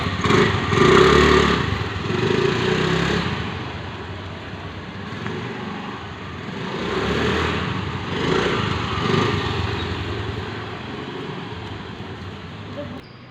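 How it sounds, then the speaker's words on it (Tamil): A hybrid scooter's small petrol engine idles and revs steadily, a buzzing mechanical drone that swells and eases in loudness, close by. "இப்போது வண்டி வந்து பெட்ரோலில் ஆன் பண்ணி உங்களுக்கு என்ன மாதிரி சவுண்ட் வருதுன்றதை நம்ம செக் பண்ணலாம்"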